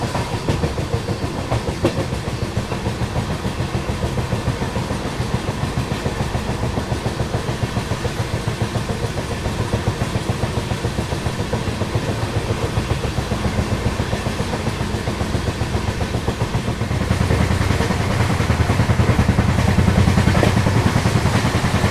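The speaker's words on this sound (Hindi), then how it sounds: "यहाँ दोबारा से स्पीड पकड़ती हुई हमारी ट्रेन" Kashi Vishwanath Express picking up speed, heard from inside the coach: a rapid, steady clickety-clack of wheels over rail joints with engine rumble, growing louder and heavier near the end.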